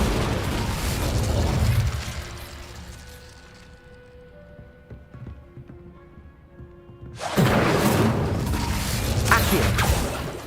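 An Incendio fire spell cast in a Harry Potter video game: a loud whooshing burst of flame at the start, a quieter stretch with tonal chimes, then another roaring fiery blast near the end.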